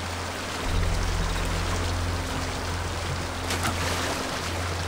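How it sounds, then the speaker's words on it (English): Rushing water from sliding down a waterfall in Splinter Cell: Blacklist, a loud, steady broadband wash with a low rumble that swells in after a brief quieter start and holds to the end. "Nothing like going down a waterfall."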